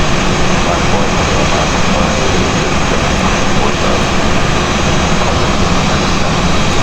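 Airbus A320 jet engines on takeoff in X-Plane 11 flight simulator, a loud, continuous broadband roar with steady intensity throughout, mixed with radio chatter from air traffic control.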